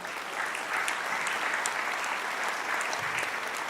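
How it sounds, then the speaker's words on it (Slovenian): Audience applause at a live comedy roast, a continuous crowd of clapping with crisp individual claps standing out, fairly distant and even in level from start to finish. "Potem je z nami tudi Božidar Wolfgang Wolf, dajmo aplavz!"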